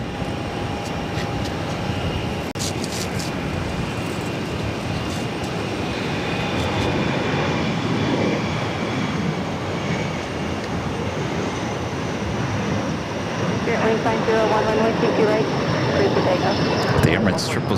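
Emirates Boeing 777-300ER taxiing at Boston Logan, a steady broad jet engine rumble and whine held at moderate distance, swelling slightly toward the end, with voices talking over it.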